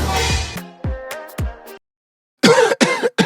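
A singer coughing in one of his songs: several sharp cough bursts, then a short silence and a few more rough, throaty coughs, all loud, close and with no talk over them.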